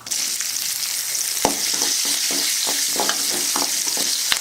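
Chana dal, urad dal, asafoetida and green chili fry in hot oil for sundal, a continuous loud sizzle broken by sharp crackles and spatters, with occasional stirring scrapes and no talking.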